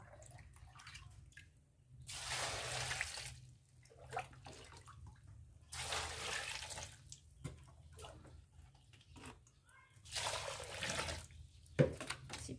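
Water is scooped into a pot in three splashing pours a few seconds apart, each a short burst of rushing water, quiet and nearby, with dripping and faint sounds in between.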